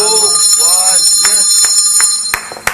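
An electric bell rings continuously and loudly in a reality-show house, its shrill, steady tone running under excited voices, with a couple of sharp hand claps near the end.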